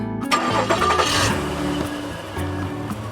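A toy van's engine-start sound cranks and catches, then settles into a continuous rumbling idle with slight rev swells, loud and close.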